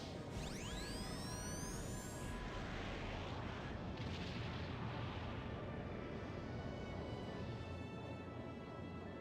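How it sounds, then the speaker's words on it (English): A Hydra cannon fires in the video game Skies of Arcadia Legends: one loud blast with rising whooshing tones, then a long rumbling roar that fades out steadily. "Ready the Hydra cannon."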